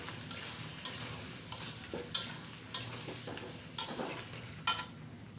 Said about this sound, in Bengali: দিয়ে এই তেলেই এই আচারটাকে সিদ্ধ করে নেব